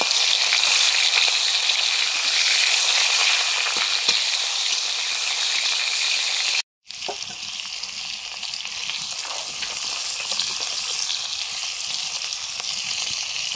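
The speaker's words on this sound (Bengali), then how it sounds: "কাঁকড়াগুলো নুন হলুদ মাখিয়ে রেখেছিলাম, ভেজে নিচ্ছি" Crabs coated in salt and turmeric frying in hot oil, a dense, steady crackling sizzle that cuts out for a moment and resumes, with occasional faint stirring knocks.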